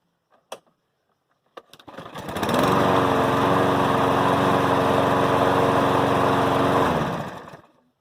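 A lawn mower engine with a throttle fault starts up after a few clicks and then runs loudly and steadily at a low, laboring speed for several seconds before winding down.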